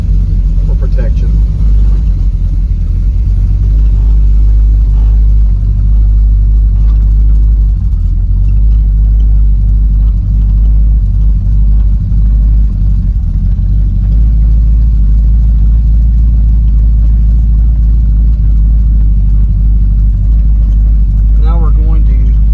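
A 1929 Ford Model A pickup engine running just after a cold start, a loud, steady low rumble that continues throughout, close up and without talking.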